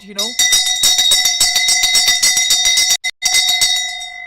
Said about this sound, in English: I'd like to ring the bell again, this time very loud